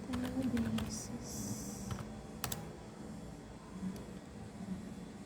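A computer keyboard typing a MySQL command, a short burst of close keystrokes followed by a few scattered clicks, under quiet talk and low background hum.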